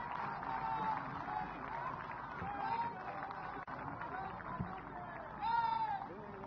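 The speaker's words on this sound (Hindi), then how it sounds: "जोरदार तालियां।" Loud applause from a large crowd at a police awards ceremony as the Telangana Police receive a trophy, dense continuous clapping with crowd murmur and a voice speaking over it.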